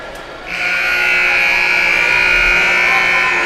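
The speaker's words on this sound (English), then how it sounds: "Buzzer sounds." A loud, sustained electronic buzzer ends a college ice hockey game, blaring steadily for several seconds over faint arena background noise.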